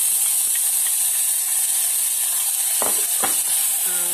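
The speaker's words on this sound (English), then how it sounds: "I'm going to use a tiny little bit of my onion and brown that off" Diced onion browns in a small amount in a hot pan, giving a loud, even, continuous sizzle with a couple of brief clatters near the end.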